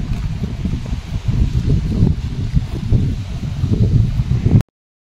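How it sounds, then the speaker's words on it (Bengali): Strong wind buffets the microphone high in a Himalayan mountain village valley near Khangsar and Manang in Nepal, a loud, low, gusting roar that continues without voices and then cuts off abruptly near the end. "খুব হাওয়া দিচ্ছে এখানে"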